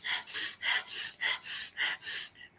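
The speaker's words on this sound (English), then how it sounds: "we're sniffing through that nose nice and hard, and you're just letting it out through your mouth" Sharp, hard sniffs through the nose as part of a breathing exercise for metabolism, about eight quick rhythmic inhalation bursts in a row, close and clear, with no talking.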